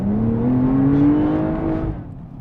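A 2021 Porsche Targa 4S sports car engine revs up with a rising, throaty drone that swells, holds, then eases off, loud and close.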